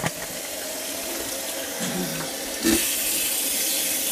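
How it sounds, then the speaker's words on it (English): Tap water running while meat is washed in a kitchen sink for a Thanksgiving meal: a steady close hiss of water with small clatters and a brief splash, growing louder and brighter toward the end, no talk. "Don't beat the meat, wash the meat."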